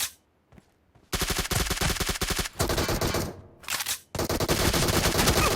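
In a team deathmatch video game, suppressed M416 and Scar-L rifles fire in long, rapid automatic bursts with brief pauses between them, loud and close, after a quiet opening with faint clicks and no talk.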